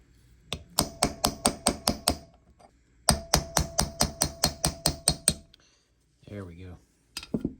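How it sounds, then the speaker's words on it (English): Two quick bursts of sharp metallic hammer blows, about eight strikes each in a steady rhythm, hit a part on a 1973 Yamaha CT3 engine up close, followed by brief talk. "trying to just hammer that loose, give it a quick shock"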